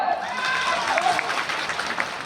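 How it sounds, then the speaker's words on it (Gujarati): A crowd claps at a political rally for the Aam Aadmi Party, giving a steady wash of applause with a few faint voices and cheers mixed in. "જોરદાર તાળી પાડો."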